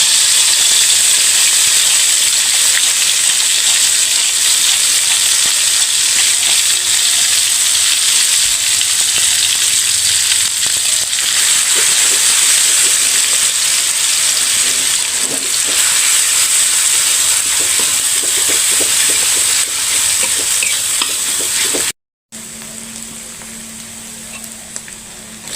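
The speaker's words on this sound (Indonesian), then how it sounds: "Tumis bumbu." Spice paste for sambal sautéing in a pan, a constant loud hiss and sizzle that cuts out briefly near the end, then resumes more faintly.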